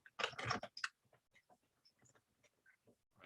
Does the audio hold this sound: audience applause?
no